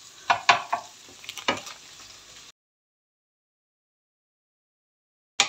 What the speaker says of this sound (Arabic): نحطهم الكل مع بعضهم ونخليهم كامل يتقلاو مع بعضها